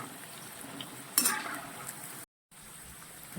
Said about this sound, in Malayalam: ഗോൾഡൻ ബ്രൗൺ ആവുന്നത് വരെ നമ്മൾ ഫ്രൈ ചെയ്യണം നല്ല ക്രിസ്പി ആയിട്ടിരിക്കണം